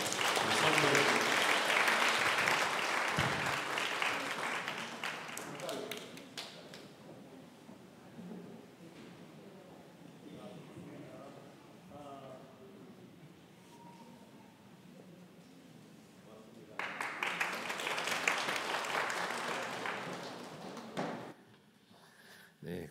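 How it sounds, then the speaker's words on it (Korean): A church congregation applauding, a broad loud burst of clapping at the start that fades into murmuring and a voice, then a second strong round of applause near the end. "우리 박수하겠습니다."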